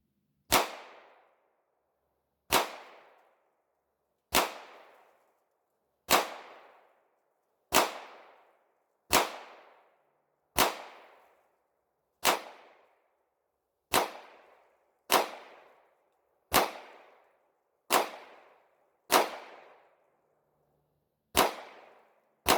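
Seventeen evenly spaced pistol shots from a Smith & Wesson M&P 2.0 with a long 5-inch slide on a shooting range, each a sharp, loud crack with a short decaying tail, fired at a steady rhythm of about one per second, with no talk.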